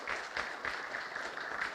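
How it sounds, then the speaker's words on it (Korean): A seminar audience at a colloquium claps in a quiet, fairly distant round of applause, with soft, evenly pulsing hand claps that continue steadily throughout. "다시 한번 뜨거운 박수 부탁드리겠습니다."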